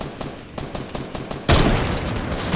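Gunfire in the video game Fortnite: rapid bursts of shots crackle in quick succession, then a louder, denser volley takes over partway through, with no talking.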